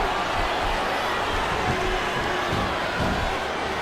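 Steady, loud roar of a capacity arena crowd in the wrestling video game WWE SmackDown vs. Raw 2007, a dense continuous wash of cheering with no clear breaks.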